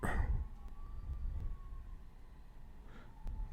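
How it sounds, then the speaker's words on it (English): An ambulance siren, faint and distant, holds a long tone over low rumbling background noise, with a few clicks and a brief rising sweep near the end. "ambulance."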